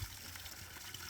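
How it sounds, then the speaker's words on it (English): Water gushing into a 5-gallon bucket under the gravity weight of a 90-gallon tank in a garden watering setup, a steady, noisy rush and trickle that carries on without a break for the whole moment. "this is a 5-gallon bucket that, with just the weight of 90 gallons of water, is going to fill up in like 30 seconds"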